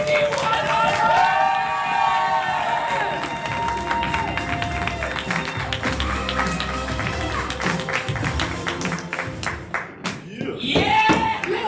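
An audience at an All Hands on Deck event claps and cheers in a long, dense burst, with shouting voices and loud crowd noise running throughout and a final swell at the end.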